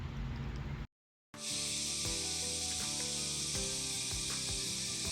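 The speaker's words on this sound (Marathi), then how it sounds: "तर हा या जंगलातल्या काही विशिष्ट किड्यांचा आवाज आहे." A dense chorus of forest insects near Tonde, Ratnagiri, whistling like a pressure cooker: a steady, loud high-pitched hiss-whine that runs continuously, broken only by a brief silent gap near the start.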